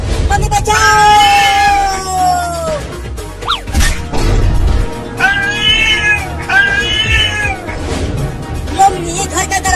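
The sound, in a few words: cat meowing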